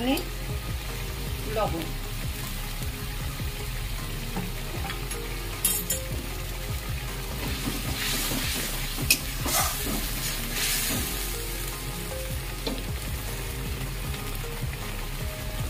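Spiced masala for a fish curry frying in oil in a pan, with cumin powder in the mix, a steady dense sizzle and crackle running throughout under occasional stirring scrapes, with a brief spoken word near the start.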